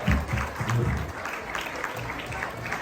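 An audience applauds at a Pongal festival celebration in London, with steady, moderately loud clapping throughout and a voice briefly heard early on.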